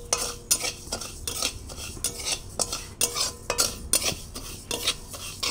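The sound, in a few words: stirring sugar in a pan for malai kulfi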